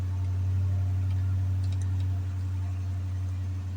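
A Hemi V8 under repair idles with a steady, strong low hum, close by, with faint light ticking over it.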